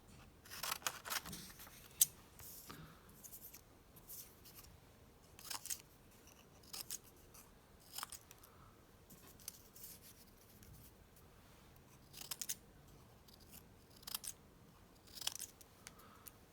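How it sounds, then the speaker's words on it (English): Scissors cut red paper squares in a long series of faint, quick snips at a steady, unhurried rhythm, with quiet paper rustle in between and no talking. "Now I'm going to cut up some red squares."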